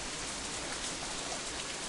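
Steady rain in the visual novel Katawa Shoujo, a dense, even hiss of falling drops that holds at a constant soft level throughout with no voices.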